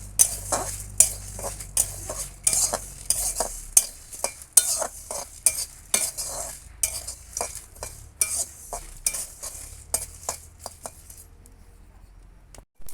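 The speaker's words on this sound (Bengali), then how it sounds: "সবগুলো মশলা আমি একবারে ভেজে নেব।" Whole spices, added after dried red chillies, fry in a pan for vegetable chops, with a spatula scraping and stirring in steady, repeated strokes close by for about eleven seconds before the sound drops away.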